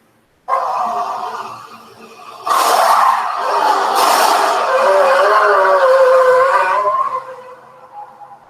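Formula 1 Ferrari race car tires skid and screech in a loud, sustained wail lasting several seconds, swelling louder midway before fading out, with no talk over it.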